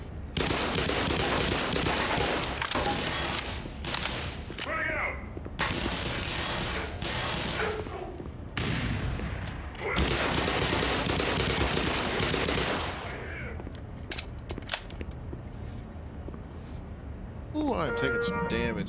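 Gunfire in the Black Mesa shooter game crackles in loud bursts and single shots spread across the clip, mixed with mechanical clanks and someone speaking over the action.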